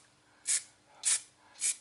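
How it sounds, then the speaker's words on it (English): Spray paint hisses in three short, evenly spaced bursts onto a model Redcoat musket, each puff close and crisp with quiet gaps between, no talking. "So the trick is just to spray where you want some metal to show"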